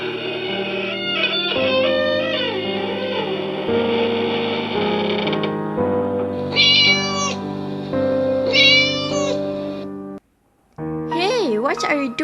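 A cat meows repeatedly, with rising and falling calls over a sustained tonal background, loud and close, with a short gap of near silence before a final burst of meows.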